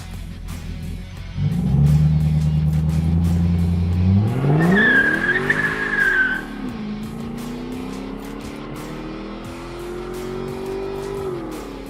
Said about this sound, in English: this thing will just spin the tires if you want it to